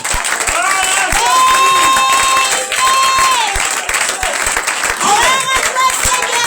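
A Pentecostal congregation at a Passover (Pessah) service applauds and cheers loudly and without a break, with raised voices shouting and calling out over the clapping throughout.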